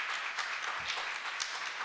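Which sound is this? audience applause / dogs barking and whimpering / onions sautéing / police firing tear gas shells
audience applause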